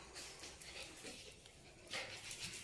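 A dog whimpers faintly upstairs in a house in Zamboanga City, a soft, thin whining in short bursts over quiet room noise.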